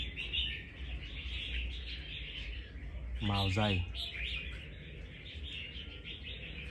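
A trapped red-whiskered bulbul gives a short burst of bright, close chirps over faint background noise, with a voice speaking quietly around it.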